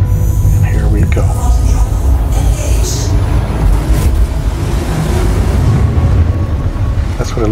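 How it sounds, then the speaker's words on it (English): Spaceship engines charge up in the Star Citizen video game, a loud steady roar and whoosh that holds throughout, broad and rushing like heavy wind, with faint sweeping tones rising over it. "If you notice, we're charging up our engines."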